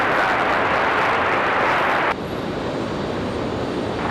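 An American Airlines jet landing on runway 5 left at Raleigh-Durham International, a loud sustained roar of engine and rushing air that drops in level partway through, heard alone.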